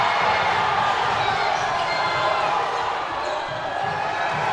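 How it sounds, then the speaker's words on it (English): A packed gym crowd roars steadily at a high school basketball tournament, a loud, sustained wash of cheering and voices with no clear breaks. "Listen to the crowd."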